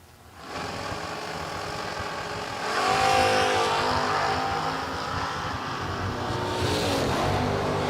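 Drag racing cars launching at a FuelTech event, including a wheelie wagon, with a loud roaring engine swell that builds and holds strongly, carrying across the track.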